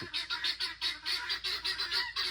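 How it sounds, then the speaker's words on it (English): Guinea fowl call in a rapid, harsh, repeated chatter near a chicken coop, the loud rhythmic cries following one another with barely a pause. "only the guinea fowl are going in this"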